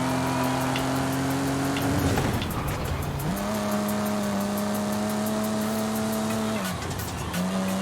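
A Forza Horizon 5 race car's engine drones steadily and loudly, its pitch rising through the gears with brief drops at each shift, and tires squeal faintly; no talking.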